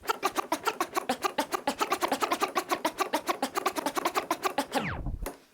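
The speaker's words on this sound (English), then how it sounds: "And the chirp scratch sounds like this." Rapid, rhythmic turntable scratches chirp in a fast repeating pattern, each short stroke cutting in and out, ending with a downward swoosh.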